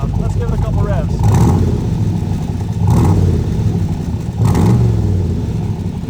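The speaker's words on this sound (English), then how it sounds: "Let's give it a couple revs." A 1965 Corvette coupe with a 327 cubic inch V8, four-speed and side pipes revs three times, each blip a loud, throaty surge over a rumbling idle, with a voice talking between the revs.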